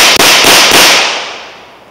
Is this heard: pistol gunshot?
yes